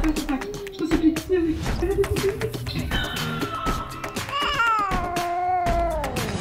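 A kitten meows repeatedly and loudly up close, with drawn-out rising and falling cries and some shuffling and tapping around it.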